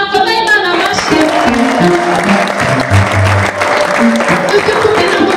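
A church congregation applauds loudly and continuously, the clapping mixing with music and a voice speaking over the crowd.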